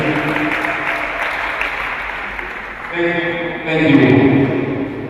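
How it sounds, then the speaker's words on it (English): An audience at a badminton tournament final claps, with the applause swelling toward the end over a speaker's voice on a public address system. "Give them a big clap."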